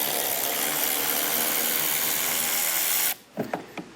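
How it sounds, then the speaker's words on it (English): A 7mm socket on a power driver removes a screw on a 2024 GMC, giving a steady, loud whirring drone for about three seconds that cuts off abruptly, followed by a few light clicks and taps. "To remove our screw, we're going to need a 7mm socket again."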